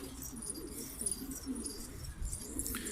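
Domestic pigeons, Şanlıurfa filo pigeons, coo in low repeated murmurs close by, with soft fluttering and faint chirps over a steady background.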